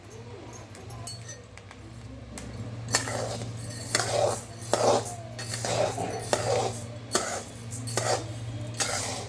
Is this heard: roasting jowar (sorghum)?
yes